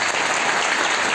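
A church congregation claps for Jesus in steady, dense applause that fills the whole short moment at even loudness, with no voices standing out.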